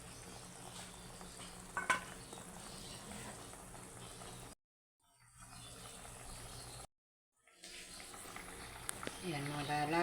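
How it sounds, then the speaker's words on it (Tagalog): Filipino apritada stew with vegetables boils and sizzles in a pot, a faint continuous bubbling hiss broken by two brief silent gaps, with low talk over it. "kumukulo na yung aking apritada"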